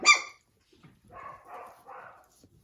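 Puppies at a breeder's home give a sharp, close bark followed by a few softer, higher yips and whimpers spread over a couple of seconds.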